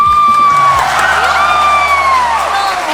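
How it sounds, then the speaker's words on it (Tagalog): Supporters at a wall climbing competition clapping and cheering, a loud crowd roar with high whoops and shouts rising and falling, close and sustained. "Mga supporters, palakpak ko!"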